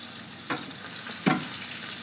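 Golden tilefish fillet frying skin-down in oil in a steel pan, a steady soft sizzle with a couple of brief louder crackles, close and alone without talk.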